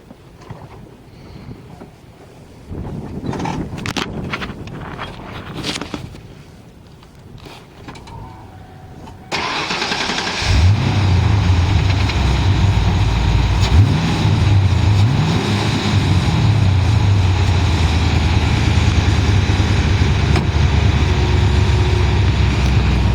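A car engine, on a vehicle getting a fuel pressure adjustment, cranks and catches after about ten seconds, then runs at a steady, loud, close idle with no talking.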